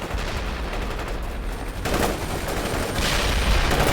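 Rapid battlefield gunfire from the World in Conflict strategy game rattles on throughout, a dense crackle that grows louder and fuller in later bursts, with no talking.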